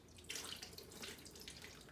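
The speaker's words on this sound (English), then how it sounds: "let me pour some water onto this sponge." Water poured onto a sponge, a soft continuous splashing trickle heard alone at low volume for a couple of seconds.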